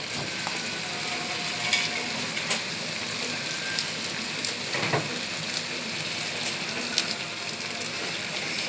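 Green chillies going into a pan of eggplant and potato curry, with a steady, fairly faint sizzle and crackle, small ticks and pops scattered through it and no voices.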